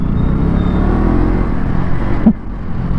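A KTM Duke 200 motorcycle engine revs hard and steady up close, a loud continuous drone that drops off abruptly near the end before settling back to a lower hum.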